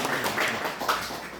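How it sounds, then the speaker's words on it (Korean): Congregation applause in a Korean church welcoming a new student, a steady patter of many hands clapping together that stays fairly soft and even, with no one speaking over it. "우리 동준이를 박수로 환영해 주시기 바랍니다"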